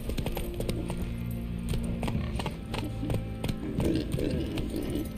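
Roach, Geralt's horse in The Witcher 3, gallops with a steady, driving clip-clop of hooves over a continuous backdrop of rain and ambient game music, loud and close throughout.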